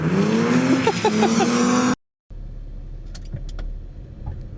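A car drifting at Driftland during New Year's Eve drift practice, with a loud, close engine revving hard that cuts off abruptly, then quieter outdoor noise and faint clanks.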